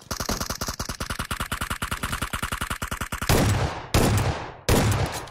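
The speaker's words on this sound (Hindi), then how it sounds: "फोर एक्स लगा के शॉटगन चलाने का मजा ही अलग है" Gunfire in the PUBG Mobile video game: a rapid, evenly spaced burst of automatic shots, then three loud, separate shotgun blasts with a scope fitted, each trailing off, close and without talk.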